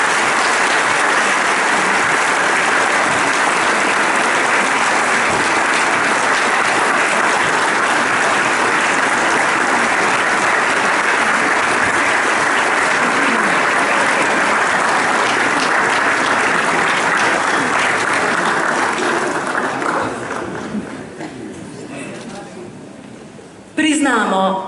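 Theatre audience applauding at a premiere, a dense, loud wash of clapping that holds steady for about twenty seconds before thinning and fading, with a brief renewed burst right at the end.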